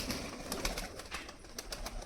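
Pigeons flutter and splash in a tub of water with a pinch of potassium permanganate close by, with soft cooing and wing flaps over a faint sunny outdoor background.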